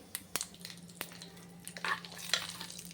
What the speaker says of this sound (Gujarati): આપણે જે ઢોકળા કર્યા ને એના માટે ગરમા ગરમ રેડી દેવાનું હોય છે